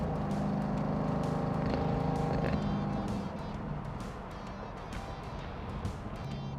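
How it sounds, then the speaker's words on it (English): Exhaust of a 1966 Corvette with an automatic transmission rumbles from inside the cabin while driving, a low steady drone that shifts and softens partway through, with faint creaks and road noise around it. "We can hear the exhaust a little bit, but it's not annoying."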